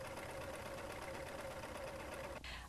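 A Baby Lock Eclipse serger runs a test stitch in a steady, fast mechanical whir that holds constant, then stops abruptly near the end.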